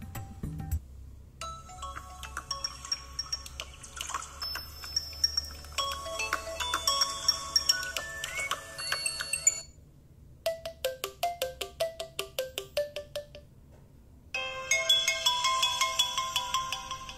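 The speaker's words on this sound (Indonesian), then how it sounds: "Kita coba dengerin ringtone-nya." A Gionee M7 Power smartphone ringtone plays through its small speaker, a bright repeating melody with chimes in several bursts separated by short silences.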